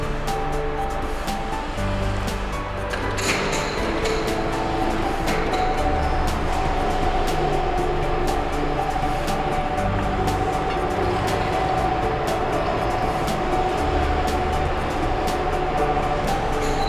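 An upright rack roll forming machine with 42 forming stations and a punch press, running steel strip at 15 m per minute, makes a loud, steady industrial rumble and hiss with faint clanks above it.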